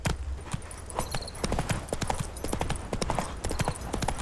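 Roach, the horse in The Witcher 3, gallops with rapid, close hoofbeats in a brisk, uneven clip-clop rhythm, loud and continuous from start to finish.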